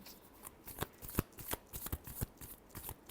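Tarot cards being shuffled by hand, a quick run of crisp riffling flutters and soft slaps, close up and fairly quiet, with no one speaking.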